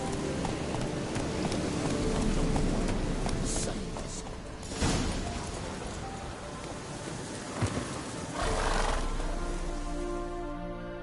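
Geralt's horse Roach trots with steady clip-clop hooves in The Witcher 3 video game, close and continuous over rainy ambience, with occasional louder thumps.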